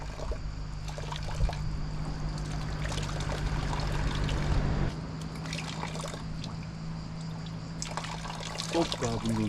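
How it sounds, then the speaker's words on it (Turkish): Cold water trickles and splashes steadily during a shower break on a mountain bike ride, close and continuous, with a person speaking over it. "Burada ufak bir duş molası gibi bir şey vereceğim."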